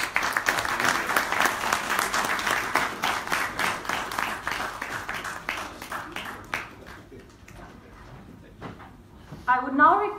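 Audience at a technology and statistics forum gives a round of applause, crisp claps rising fairly loud then thinning out and fading after about seven seconds, followed by brief faint talk near the end.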